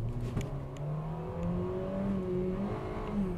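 A 2021 Mitsubishi Xpander's engine droning after a downshift into low gear on a mountain road climb to Genting, a steady humming note with rising pitch as revs build, heard from inside the cabin without talk.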